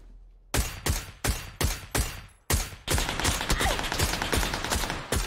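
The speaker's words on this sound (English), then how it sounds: "Just some atrocious shots on my part" Designated marksman rifle fire in PUBG: five loud, evenly spaced cracks, a short pause, then a faster string of shots with a ringing echo tail, with no talking.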